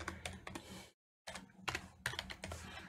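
Rapid keystrokes on a computer keyboard while entering a license plate in Farming Simulator 22, close and fairly quiet, in two bursts split by a brief silent gap.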